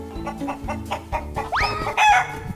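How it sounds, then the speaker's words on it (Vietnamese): Chickens cluck in quick, rhythmic bursts, then a rooster lets out a loud rising crow close by, a flock of farm fowl with no talking over them. "Chạy anh ơi, con gà đằng kia kìa anh ơi."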